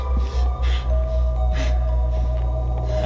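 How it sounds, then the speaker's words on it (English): Breathing in the horror game Neverending Nightmares: slow, rhythmic breaths swelling and fading every half second or so, close and heavy over a low droning soundtrack hum. "I hear breathing that isn't mine."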